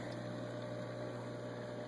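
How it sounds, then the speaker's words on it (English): A Marineland 400 powerhead pump pushing water through an aquarium: a faint, even whir and wash of moving water, steady and unbroken. "We did order another power head. It's the Marineland 400."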